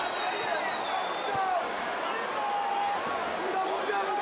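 Dense arena crowd noise at a 2004 heavyweight boxing bout, Mike Tyson vs Danny Williams, a steady roar of many voices with cheering swells, heard at a distance.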